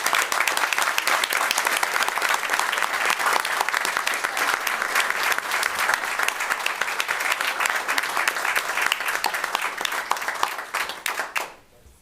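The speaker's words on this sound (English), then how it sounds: "let's give them a round of applause" Sustained audience applause at a school committee meeting, dense steady clapping from a full room for about eleven seconds before tapering off at the end.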